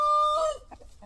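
A fighting-cock rooster of a large-winged breed gives a loud, close drawn-out crow, followed by a few soft clucks with no talk around it.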